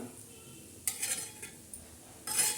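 Chana dal chutney being turned over in a pan, with two short bursts of a utensil scraping and stirring against the metal surface between quiet pauses, close and fairly soft, with no talking.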